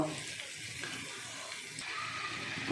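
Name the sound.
ginger garlic paste frying in a pan for kosha mangsho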